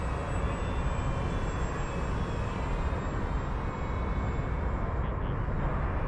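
An FMS F7F Tigercat 1700mm RC model warbird drones past with a steady, continuous engine roar that stays fairly loud and even throughout, with no speech over it.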